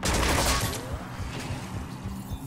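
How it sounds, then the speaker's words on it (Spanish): Gunfire in the video game Mass Effect 3 multiplayer, a loud burst of rapid shots at the start that fades into scattered, muffled firing. "oigo los tiros como si los tuviese al lado"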